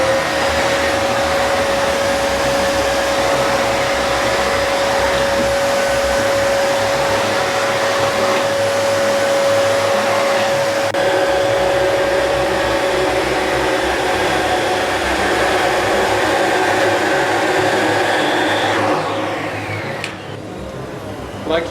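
A Panasonic MC-CG955 canister vacuum runs on a tile floor with a steady, loud motor whine and a constant tonal hum, cleaning along a baseboard before the sound shifts and tapers near the end.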